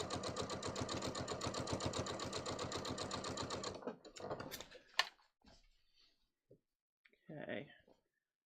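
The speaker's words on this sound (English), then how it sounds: "I'm just going to keep stitching" Sewing machine stitching trousers in a rapid, even mechanical chatter for nearly four seconds, then stopping, followed by scattered clicks, handling knocks and a short burst of fabric or mechanism noise, all fairly quiet.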